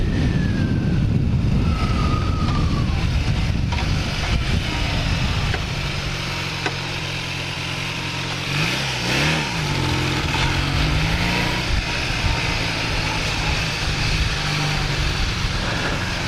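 A 1980 Kawasaki LTD440 motorcycle engine runs loud and close, revving hard at first, then settling into a steady idle with a brief blip of throttle partway through.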